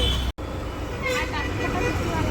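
A bus rumbles in busy city traffic at a crowded circle in Rajkot, with steady engine and road noise all around, close and continuous. People talk over it, and there is a brief dropout near the start.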